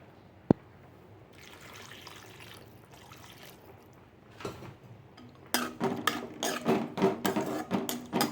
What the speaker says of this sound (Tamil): இப்போ இதுக்கு தேவையான அளவு தண்ணி ஊற்றிக்குவோம்